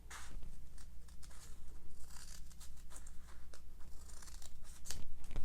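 Scissors snip notches into paper-backed embroidery stabilizer, making close, repeated crisp cutting and crinkling sounds in a steady, uneven rhythm.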